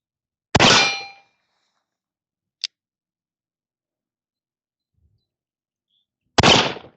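A Confederate engraved brass revolver fires at a target: two loud, sharp reports about six seconds apart, each ringing briefly before fading, with a small tick between them and no talking.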